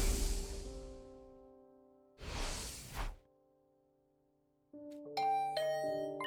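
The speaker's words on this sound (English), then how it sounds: "Huh? Was that my doorbell?" Doorbell chime in The Hundred Line: Last Defense Academy game: short tonal ding notes near the end, following two bursts of whooshing noise, with no talking.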